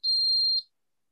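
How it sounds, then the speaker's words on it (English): A single piercing electronic alarm beep, loud and steady for about half a second before cutting off into silence. "May nag-a-alarm."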